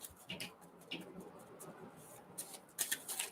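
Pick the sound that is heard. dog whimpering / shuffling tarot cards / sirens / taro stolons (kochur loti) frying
shuffling tarot cards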